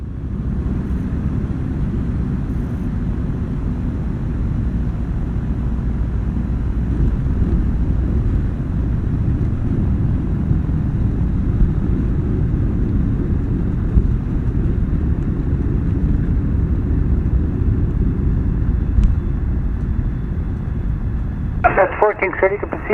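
Small airplane rolling down a runway, a steady low engine drone with wind rumble running continuously, ending in a brief burst of clatter.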